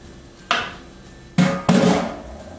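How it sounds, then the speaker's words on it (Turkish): Popcorn kernels are poured into a pot of hot oil and salt on the stove, heard as three short clattering rattles spread over a couple of seconds, close and moderately loud. "İçine mısırlarımı koyuyorum."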